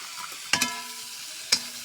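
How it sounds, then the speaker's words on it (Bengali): Fried cauliflower, eggplant and potato dropped into a sizzling spice mix in a pan, with a low sizzle broken by a couple of sharp clatters and splashes as the pieces land, no speech. "তারপরে ভেজে রাখা ফুলকপি, বেগুন, আলুকে এই মশলার মধ্যে ঢেলে দিলাম।"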